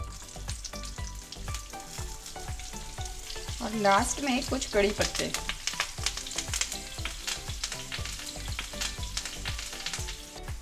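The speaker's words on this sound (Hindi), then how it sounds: "तड़के में ऐड कर देते हैं थोड़ी सी राई, हींग, सफ़ेद वाले तिल, थोड़ी सी हरी मिर्च" Mustard seeds, asafoetida, white sesame seeds and green chillies crackle and sizzle steadily in hot oil, with sharp popping bursts as something is added, while a voice speaks briefly.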